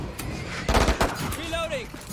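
Gunfire in the shooter game Valorant: a short cluster of sharp shots in the middle, mixed with game effects and a steady background bed, with voices talking nearby.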